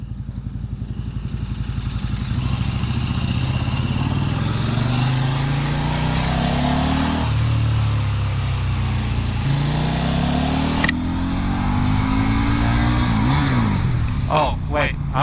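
A KTM RC8 superbike's engine hums steadily while riding, its pitch climbing and falling through shifts and rev changes, loud and close throughout, with a brief sharp click near the end.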